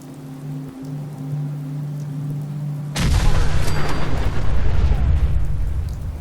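A tactical nuclear strike in Fallout 4 lands after a low steady hum, erupting suddenly into a loud, sustained roaring blast with crackling debris that rumbles on to the end.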